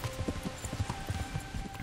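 A warhorse in Kingdom Come: Deliverance trots with steady, rhythmic hoof clip-clops that sound fairly close and clear, with no talking over them.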